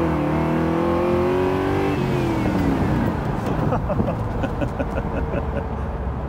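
A Triumph/Rover car engine revs up hard through first gear, drops briefly on the shift, then pulls again in second. The engine is loud and close, heard from inside the car.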